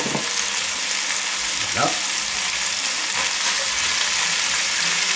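Carrots tossed into a hot pan with duck, giving a steady loud sizzle and frying crackle throughout, with a few stirring scrapes and clatters.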